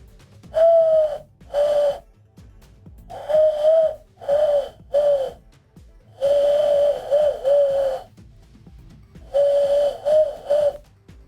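A person imitates an owl hoot with cupped hands, giving a series of breathy, tonal hoots in short bursts and longer phrases, close and fairly loud with pauses between.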